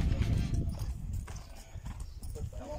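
Horses clip-clop at a ranch during an afternoon of piales roping, a busy run of hoof beats close by with a faint whinny, while people talk in the background.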